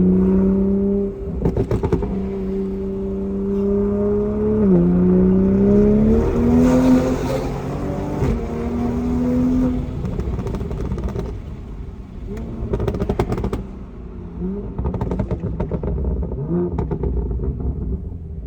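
A Toyota Supra Mk5 engine revs hard with sharp throttle blips, loud and close, its pitch climbing and dropping through several surges before settling back toward a lower rumble.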